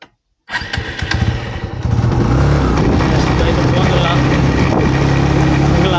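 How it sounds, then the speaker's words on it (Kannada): A motorcycle engine cranks after a short silence, catches, then settles into a loud, steady running rumble close to the microphone as the bike pulls away, with a voice speaking faintly under the engine. "ನಾ ಬೈಕ್ ಕುಳಿದು ಪೋಪಿ"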